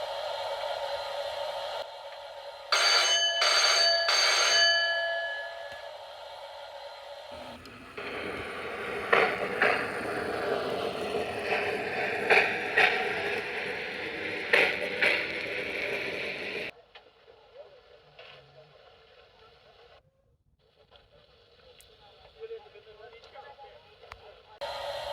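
A Lionheart O gauge DCC model locomotive plays its sound effects: short tonal whistle-like bursts, then a stretch of busy mechanical ticking and rumble, fading to quieter sparse clicks.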